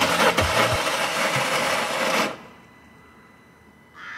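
A Mercedes Daily van's engine turns over on the starter and runs briefly, a loud mechanical clatter with a few knocks for about two seconds before cutting off into near quiet, then a faint tone returns.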